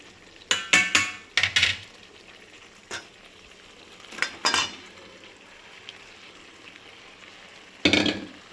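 Banana flower stirred into spiced oil in a pan for a Bengali vegetarian dish, heard as a few sharp scraping and clattering spoon strokes separated by quiet gaps of soft sizzling.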